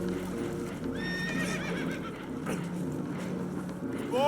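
Spooked horses in Red Dead Redemption 2 whinny in a rising, shrill neigh amid clip-clopping hooves and a steady rumbling background, with brief voices in the game mix.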